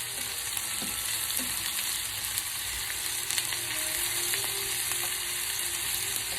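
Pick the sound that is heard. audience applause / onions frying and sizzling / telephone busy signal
onions frying and sizzling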